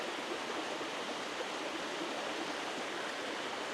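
A waterfall in a forest valley on a Korean woodland trail roars as a steady, dense rush of falling water, continuous and even throughout.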